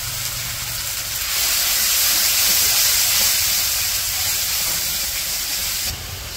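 Ground spices (turmeric, chili powder and ginger-garlic paste) hit hot oil with fried onion and green chili, giving a steady, loud, close hiss that swells briefly and then settles, with no talking.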